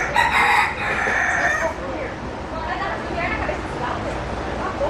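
A chicken perched on a restaurant table in Key West crows loudly near the microphone, then softer clucks and background chatter continue.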